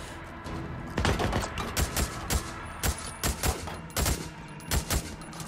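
Gunfire in the video game Days Gone, a series of sharp, loud shots fired singly and in quick bursts at an irregular rhythm over a low steady game ambience, with no talk.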